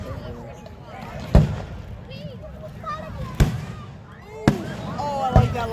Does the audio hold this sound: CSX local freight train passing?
no